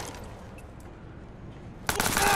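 SMG gunfire in the video game Watch Dogs, a sudden loud burst of rapid shots near the end after a quiet stretch with a few faint earlier pops.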